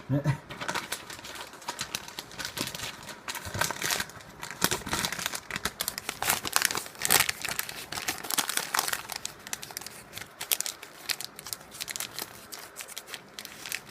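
Paper crinkles and crumples continuously as a Zippo lighter is wrapped by hand, with close, busy rustling bursts and occasional tearing-like scrapes throughout.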